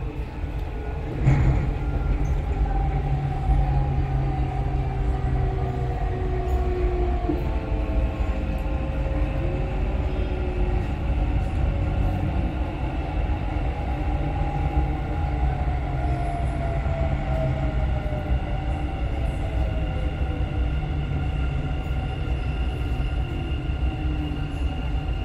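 A Dubai Metro train rides between stations, a loud steady rumble of rolling wheels with rising and falling tonal whines from the motors and a sharp clack near the start, heard from inside the carriage.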